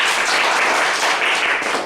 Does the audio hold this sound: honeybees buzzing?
no